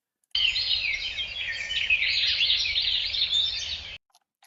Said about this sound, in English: Birds singing sweetly in a blooming garden.